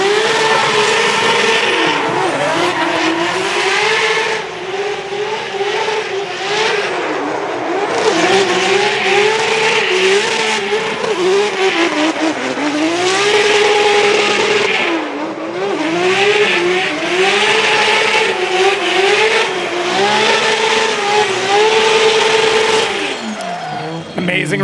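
Formula Drift competition car drifting at the 2025 Shoreline Showdown Top 16, engine revving and bouncing off the limiter with sustained tire squeal, loud and close throughout, with commentary voices layered over the run.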